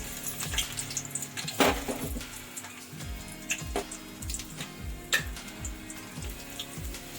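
Chana dal, cumin and mustard seeds sizzle and crackle in hot oil for a tempering, with steady frying hiss broken by sharp pops and faint stirring clinks, no talking.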